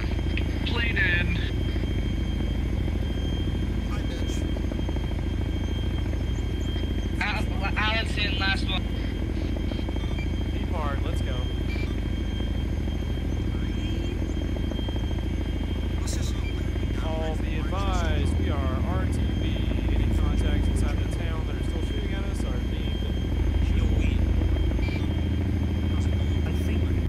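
A helicopter in the video game Arma 3 drones loudly and steadily the whole time, a constant rotor and engine rumble. Voices talk over it and radio-style chatter cuts in now and then.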